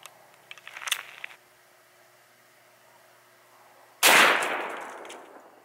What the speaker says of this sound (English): Now we're gonna try some 44 Magnum. 240 grain jacketed soft points, and these will be coming in around 1450 feet per second.